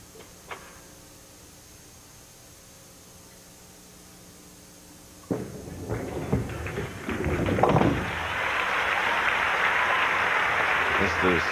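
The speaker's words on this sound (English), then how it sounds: "Crowd reaction tells the story here" Crowd applause breaking out after a strike at a 1996 professional bowling tournament: a quiet stretch, then pins crash and clapping swells into loud, sustained applause, with commentary underneath.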